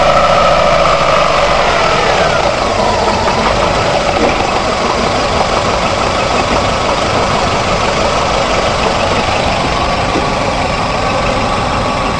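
A car engine with a fuel injection signal wired to an oscilloscope runs at a steady, loud idle with a low rumbling drone throughout and no talk.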